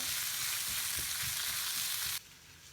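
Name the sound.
onions sautéing in a pan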